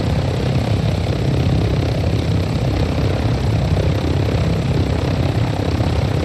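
Video-game helicopter hovering during an extraction, a steady loud rotor-and-engine drone with a broad, unbroken roar that holds evenly throughout with no voices over it.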